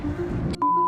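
A steady electronic tone about one kilohertz-like pitch cuts in after a short burst of noise, holding loud and unbroken until the end.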